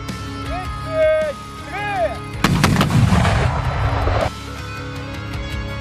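Artillery fire in a preparation bombardment in the war in Ukraine, a loud deep blast with rumbling roar lasting a couple of seconds, mixed with siren-like tones and a narrating voice.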